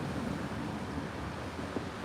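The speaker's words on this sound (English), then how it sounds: "it's windy out here" Wind blows steadily outdoors in Las Vegas, a loud even rushing hiss across the short stretch with no talk.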